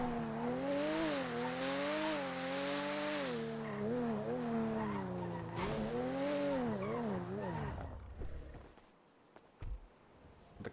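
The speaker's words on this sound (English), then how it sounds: "The car is so loud." A loud car in GTA V roleplay revs and drives with a wavering, pitching engine drone, tires squealing and skidding before the engine cuts out abruptly, leaving a few faint thumps.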